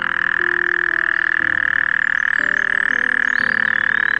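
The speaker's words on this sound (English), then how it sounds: "Croaking provides a reliable sign of body size and hence of prowess." A male Bufo toad croaks in a steady, continuous low trill close by, a loud buzzing pulse that runs throughout with a faint higher tone behind it and no voices.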